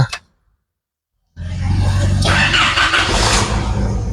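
An All New Isuzu D-Max starts with the key after near silence; the engine catches suddenly and settles into a loud, steady running roar that fills the rest of the moment close by.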